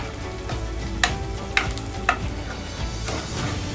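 Squid frying with black pepper in a pan, stirred by hand: a steady close sizzle broken by three sharp scraping clacks of the spoon against the pan, with no talking.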